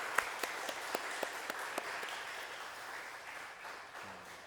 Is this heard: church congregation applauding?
yes